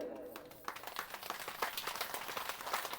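A devotional gathering claps for two brothers, a dense, fairly faint patter of many hands that swells and continues steadily.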